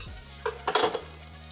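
A spatula scrapes and clinks against a metal cooking pan in a brief burst of scratchy strokes, close up, over a low steady hum.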